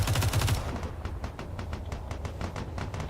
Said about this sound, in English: That is artillery.